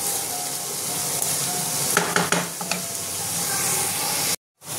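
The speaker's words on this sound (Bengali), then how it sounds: "পেঁয়াজটা একটু হালকা লাল করে ভেজে নেবো আমি।" Chopped onion fries in a pan for a chicken keema paratha, giving a steady close hiss and sizzle with a few sharp stirring scrapes midway before a brief cut to silence near the end.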